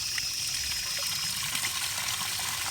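Water hisses and trickles steadily as it flushes through the Y filter of a drip irrigation line with the flow control barely opened, a continuous close rush with faint clicks.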